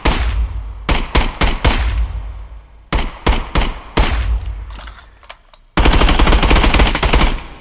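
Rapid bursts of 5.56x45 armor-piercing rounds fire in the Contractors video game, short volleys broken by brief pauses, then one long continuous stream of loud, close automatic shots with no talking.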